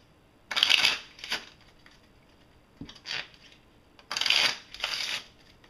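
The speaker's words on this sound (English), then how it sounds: "shuffle the deck," A deck of playing cards is shuffled in several quick riffling bursts with short pauses between them, close and crisp in a quiet room.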